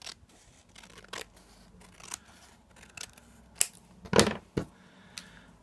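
Scissors trimming paper for a handmade craft pocket, a series of crisp irregular snips and rustles close by, with a few louder cuts near the end and no talk.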